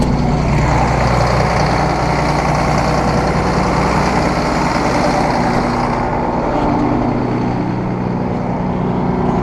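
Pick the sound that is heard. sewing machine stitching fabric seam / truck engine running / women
truck engine running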